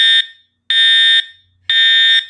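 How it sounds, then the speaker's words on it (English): Three loud, harsh blasts from a directional fire alarm horn, each about half a second long, repeat at a steady one-second pace with silence in between. "And it is kind of directional."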